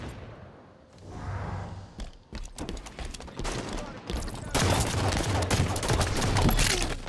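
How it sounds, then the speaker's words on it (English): Sniper rifle fire in a Halo 5 multiplayer doubles match: sharp, booming shots and thuds crack out in irregular bursts over a dense, noisy game soundscape that thickens toward the end. "Sniper battle."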